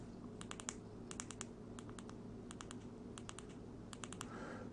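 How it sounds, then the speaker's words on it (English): A Zebralight flashlight button is pressed repeatedly in quick pairs and small runs, making crisp, faint, close clicks in clusters over a low steady background hum. "So now I want to double click 6 times to get up to 50."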